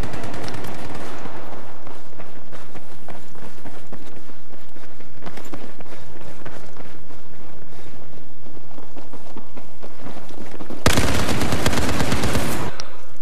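A light machine gun fires in Battlefield 4 in loud rapid bursts: one at the start, another midway and a sustained, very loud stream near the end, over scattered game footsteps and background effects.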